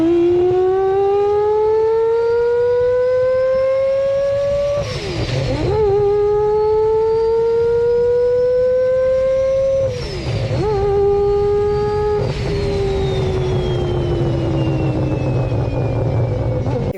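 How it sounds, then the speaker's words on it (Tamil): A custom-built car with a five-rotor Wankel rotary engine screams as it revs, its high-pitched tone climbing steadily, dropping sharply at gear changes, then rising again. Loud and close, with no talking. "MF five custom build five rotor வேங்கல் rotary engine powered car"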